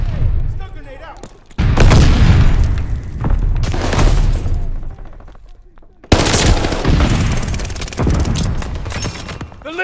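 Stun grenade blasts and rapid Thompson submachine gun fire in Call of Duty Vanguard, loud bursts and booms with sudden hard onsets near 1.5 and 6 seconds, dense sustained shooting throughout.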